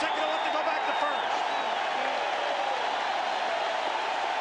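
Baseball crowd at the Florida Marlins' first game in 1993 cheering a long running catch in deep center field, a steady broad roar of cheers and applause that holds for several seconds.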